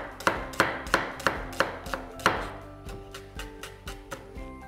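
An onion is roughly chopped with a knife on a board, giving a steady run of sharp, close knocks, heavier at first and then lighter and quicker toward the end, with no talk over it.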